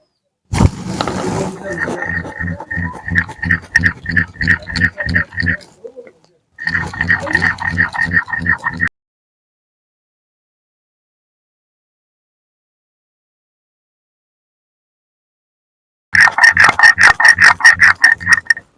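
Mustard seeds and chillies are ground into a paste for a rohu-style fish curry with drumsticks, heard as close, rhythmic rasping strokes in two quick runs, then a long silence before a final burst.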